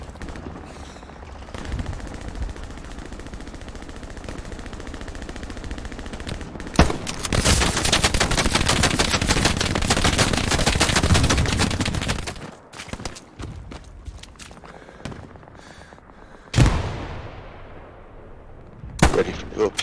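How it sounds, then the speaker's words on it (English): Gunfire in the Hell Let Loose game on a Stalingrad map: sporadic shots at first, then a long dense burst of sustained automatic fire and explosions, followed by scattered sharp reports and a loud blast near the end. "Immediately taking fire."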